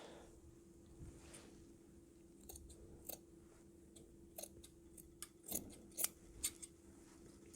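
Scissors snipping shirt fabric while trimming a neckline, faint room tone broken by scattered crisp metallic cuts that cluster more densely toward the end, close and quiet, no voices.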